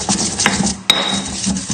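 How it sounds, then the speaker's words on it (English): Steak marinade ingredients with rosemary and pepper being pounded and mixed in a bowl, giving steady scraping and knocking clatter with two sharper knocks, close and continuous. "so we'll give this a good pound now. Just breaking everything up and mixing it together."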